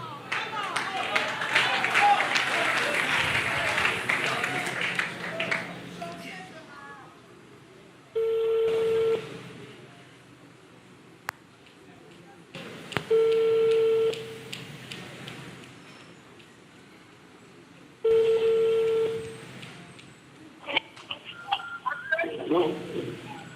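Three separate bursts of steady telephone dialing or ringback tones, each lasting about a second, sound between stretches of voices and background noise during a call-in.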